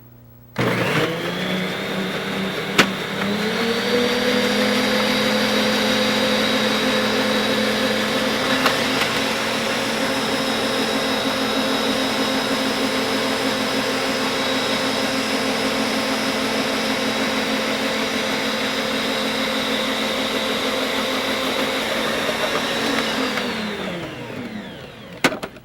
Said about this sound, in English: This is our zucchini. We're going to finely grate.